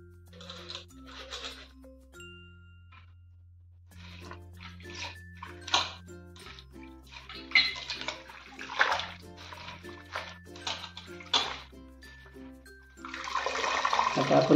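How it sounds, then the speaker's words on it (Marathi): Fenugreek greens are washed by hand in a bowl of clean water, giving repeated sloshing and splashing bursts in an irregular rhythm over a low steady hum, rising to a denser, louder splash at the end. "आता त्याच्यात एकदा परत आपली भाजी चांगली धुवून घेऊ"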